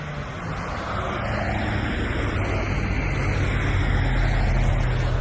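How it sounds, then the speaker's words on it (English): Oncoming car traffic passing on a road, a steady broadband rush that slowly swells louder over several seconds, with no talk. "Oncoming traffic."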